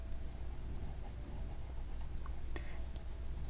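A colored pencil shades along the edge of a doodled gem on paper, giving a steady, close, soft scratchy rubbing that runs throughout without a break.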